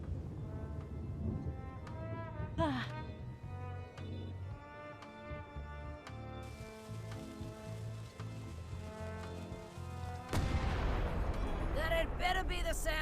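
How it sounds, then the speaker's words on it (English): A cannon fires in the Monkey Island game as a sudden loud boom late in the clip, after game music and voices. "Ready for cannon firing."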